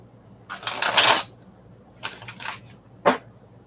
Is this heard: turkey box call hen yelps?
no